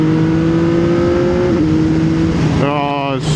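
A CFMOTO 675SS motorcycle engine hums steadily, dips briefly during a manual shift, then revs sharply upward with rising pitch, loud and close. A voice may be present underneath.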